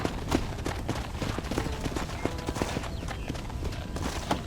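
Horse hooves galloping in Red Dead Redemption, a rapid uneven clatter of hoofbeats on open ground, close and continuous beneath faint ambient game sounds.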